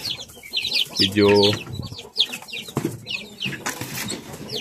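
Native chickens in a small backyard, clucking and chirping in rapid, irregular bursts, with one drawn-out call partway through, some fluttering, and someone speaking in Filipino over them.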